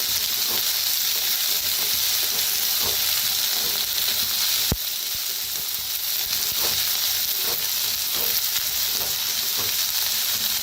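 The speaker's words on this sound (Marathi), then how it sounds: "कांद्याच्या पातीला बी चांगलं भाजून घेऊया" Chopped onion and spring onion greens frying in a pan, a dense continuous sizzle close up with occasional stirring scrapes and one sharp knock.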